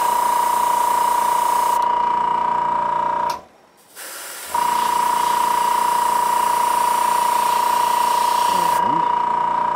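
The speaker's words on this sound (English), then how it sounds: "be careful how close you are and how hard you're spraying it, because red is notorious for starting to run" A spray gun laying down red paint, a steady close hiss that cuts out for about a second and then resumes, alongside a constant high tone.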